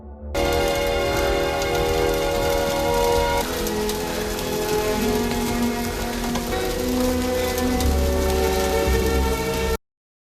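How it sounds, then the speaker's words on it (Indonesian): Hail pours down in a film scene, a dense, steady patter that stays loud from start to finish, with sustained music layered over it before cutting off abruptly near the end. "tiba-tiba hujan es turun"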